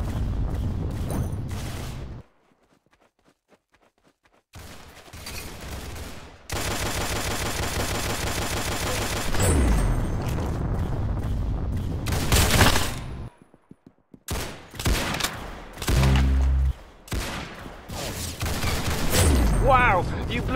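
Roblox Arsenal gameplay with rapid bursts of automatic gunfire and single shots, broken by short silent gaps and some louder impact booms. Voices talk over parts of the firing.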